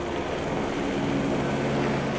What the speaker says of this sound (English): the launch point for helicopters ferrying yatris to Kedarnath